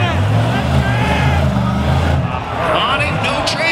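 An off-road race car at King of the Hammers 2014 roars at high revs while pulling a wheel stand with no traction, a loud, close engine drone under a commentator's voice.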